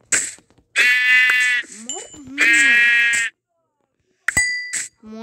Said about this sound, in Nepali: मोर भेडाहरू